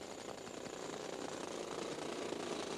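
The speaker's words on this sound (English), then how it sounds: "his British counterpart, Graham Fagg, was drilling too." A continuous droning, rattling machine noise, like a heavy tunnel drill grinding steadily through chalk, with no pauses and no voices.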